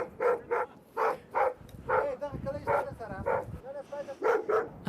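A large dog barks repeatedly in short, sharp bursts with irregular gaps between them, fairly close and loud, at a tense walled compound during a military search.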